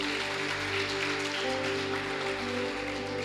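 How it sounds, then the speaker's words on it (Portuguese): A church congregation applauds during a worship service, a steady wash of clapping that holds at an even level throughout, with sustained tones and a faint murmur of voices underneath. "Amém, aplauda o Senhor"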